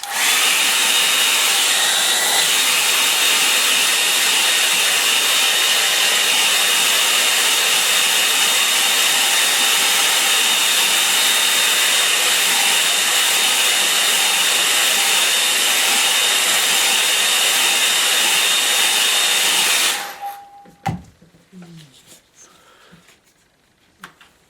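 A hair dryer blows steadily and loudly at close range for about twenty seconds to dry wet paint, then cuts off abruptly, leaving a brief faint clatter afterward.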